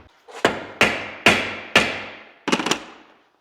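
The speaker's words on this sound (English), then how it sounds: "So we're gonna hopefully hammer on it and twist at the same time" Hammer blows strike a Phillips screwdriver held with vice grips, four sharp metallic hits at an even pace, then a quick cluster of lighter taps, each ringing briefly.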